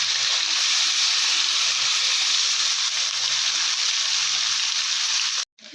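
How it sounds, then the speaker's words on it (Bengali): Sea fish seasoned with salt and turmeric fry in hot oil in a wok, giving a dense, steady, loud sizzle that holds throughout and cuts off abruptly just before the end. "এখন মাছগুলো নুন হলুদ দিয়ে মাছগুলো"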